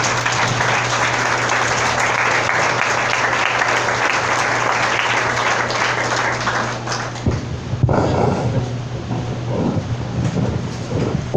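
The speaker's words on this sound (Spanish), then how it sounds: "Dale un fuerte aplauso al Señor" A church congregation gives loud, sustained applause during a sermon, a thick roar of clapping that fills the room for several seconds before thinning out, with a steady low hum beneath it.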